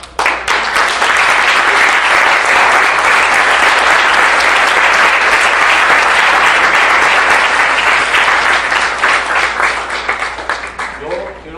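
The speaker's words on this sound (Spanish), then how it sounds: "un fuerte aplauso" A large audience bursts into loud, sustained applause at the end of a talk on contagion and epidemiology, dense clapping holding steady for about ten seconds before easing off slightly.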